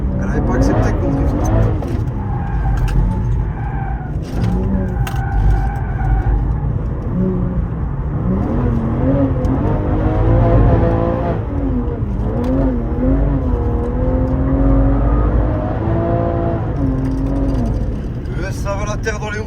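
A BMW M3 G80 drifting, its engine revving and wavering in pitch under continuous talk from people inside the car, loud and close.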